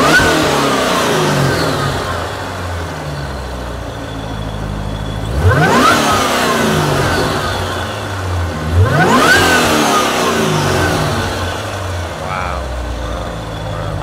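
Callaway C16 Corvette engine revs hard twice from a rumbling idle, each blip swelling loud and close before falling back, with a lighter third rev near the end; men chat over the engine.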